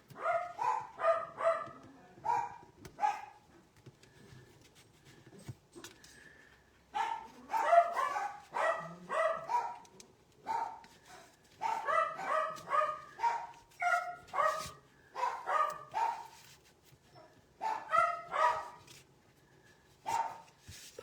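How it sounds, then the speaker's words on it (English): Several dogs bark repeatedly in bursts of sharp yips and barks, fairly close, with short pauses between volleys and no talking. "Apologize for the barking dogs."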